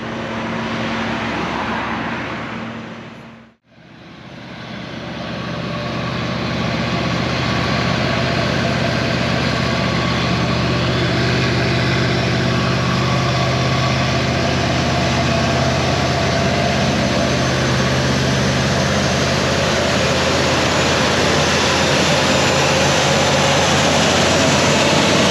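A Mercedes M113 V8 turbo engine runs on a dyno with a loud, steady, heavy roar. The roar cuts out briefly for a moment, then resumes and holds near and constant for the rest of the run.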